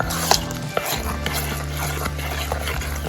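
Dhokla batter being stirred with buttermilk added little by little, a steady wet churning with soft liquid sloshing and a couple of light clinks against the bowl, close and continuous, with no talking.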